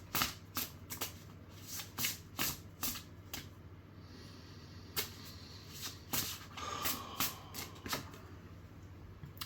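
Cards are shuffled in a series of quick riffling bursts, close and fairly quiet, repeating in uneven rhythm with short pauses.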